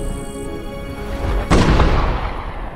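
A single sharp gunshot rings out in a war film scene, a sudden heavy boom over a low rumbling background, with no speech.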